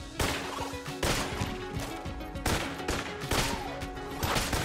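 Rifle gunfire in the twin-stick shooter Enter the Gungeon, a series of sharp, loud shots at a steady, fairly quick rhythm, each crack followed by a short rattling tail, with no talk over them.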